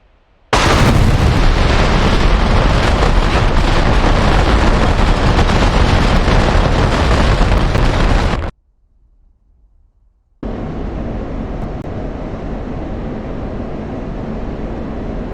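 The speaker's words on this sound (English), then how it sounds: "to follow the bombs through their dispensing and impact if you wish" Cluster bombs dispensed from an F-16 in a DCS flight-combat simulation burst and explode on impact, a loud continuous roar of rapid overlapping blasts lasting several seconds, a brief silence, then a steady lower rumble of further detonations and fire.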